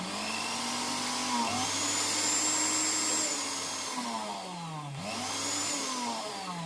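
A Tefal Black Collection blender running empty whirs loudly up close. Its motor whine rises and dips twice as it runs, over a constant rough roar.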